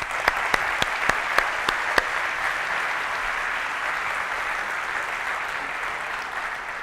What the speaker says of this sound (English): So give them a big, big round of applause.